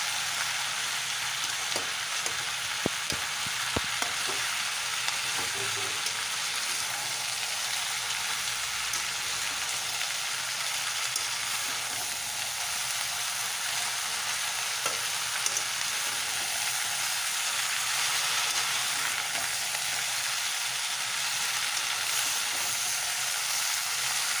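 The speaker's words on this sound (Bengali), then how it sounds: "পুঁই শাকগুলো কিছুক্ষণ তেলের মধ্যে ভালো করে কষিয়ে নেবো" Malabar spinach sautéing in hot oil for a fish-head chorchori, a continuous bright crackling sizzle close by, with a few scattered clinks and stirring scrapes early on and no talk.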